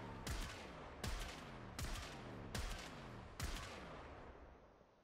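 Five evenly spaced, loud gunshots from a viral gas weapon in the video game Warframe, each sharp report trailing into a long ringing decay, with no talking.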